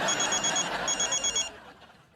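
A telephone bell ringing in two quick bursts of bright electronic trill, fairly close, then stopping, indoors in a comedy scene.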